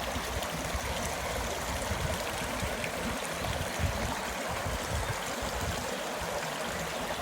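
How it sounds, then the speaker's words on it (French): A small river flows steadily, its broadband rushing and trickling water continuous and close throughout, with no talk over it. "Donc voilà la petite rivière où on va pêcher."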